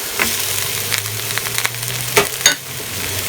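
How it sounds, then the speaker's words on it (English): Beef and garlic stir frying in a hot pan, with a steady loud sizzle and a few scraping stirs of the utensil against the pan, no voices. "Now I'm going to add my garlic and stir fry for about 30 seconds"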